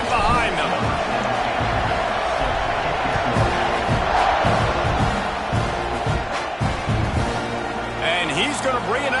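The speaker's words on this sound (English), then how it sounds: "this crowd now ready to get behind them" Stadium crowd in an NCAA 26 college football video game, with Texas A&M playing, keeps up a steady, loud roar and cheer across the whole stretch, with a commentator talking over it.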